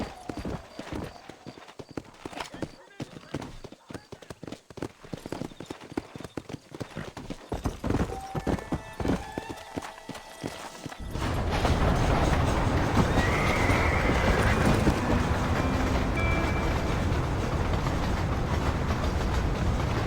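Horse in the Red Dead Redemption video game, rapid hoofbeats and a whinny in the first half, then a louder, denser continuous galloping rush with rattling, no talk.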